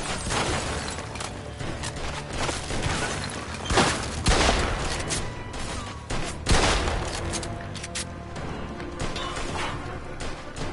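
Rapid bursts of video game gunfire crackle in dense volleys with sharp louder shots, amid clattering and crashing effects, with no talking.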